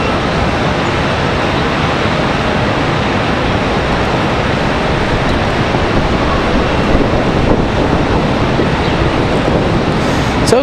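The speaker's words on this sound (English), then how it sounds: "This wind is just absolutely brutal." Strong wind buffets the microphone at Charlotte Douglas airport, a continuous loud rumbling roar like surf with faint distant traffic underneath and no voices.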